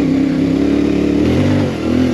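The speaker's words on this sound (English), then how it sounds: "God, I love the sound of this bike." A CFMoto MT450 motorcycle engine drones steadily and loudly up close, a constant mid-pitched running tone with a slight dip near the end and no talk.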